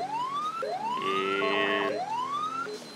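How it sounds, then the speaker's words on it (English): Police car siren in GTA 5, on a Royal Canadian Mounted Police patrol in snow: a loud, close wail that sweeps up repeatedly, with a brief warbling yelp burst in the middle, heard alone without talk. "let's get our lights on here"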